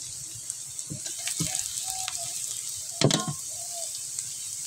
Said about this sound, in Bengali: পেঁয়াজ রসুন তেলে ভেজে নিলাম।